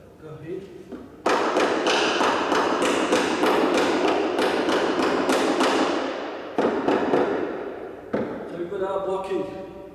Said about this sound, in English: And pin it down with a hammer